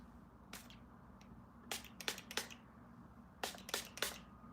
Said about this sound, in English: I'm gonna just spray a little bit of shine.